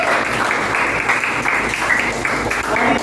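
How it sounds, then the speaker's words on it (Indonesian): A classroom of students claps after a group presentation, dense steady applause from many hands, close and fairly loud throughout. "tepuk tangan dulu."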